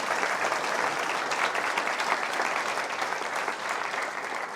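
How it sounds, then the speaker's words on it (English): Steady audience applause at a town hall meeting, a dense wash of many hands clapping that holds at an even level throughout. "Let's give them a nice round of applause"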